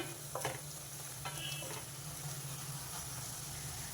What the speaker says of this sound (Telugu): ఉల్లిపాయలు చక్కగా వేగిపోయినాయి పసుపు వేసుకున్నా ఈ పసుపు కూడా కొంచెం పచ్చివాసన పోవాలి